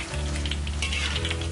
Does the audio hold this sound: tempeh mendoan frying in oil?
yes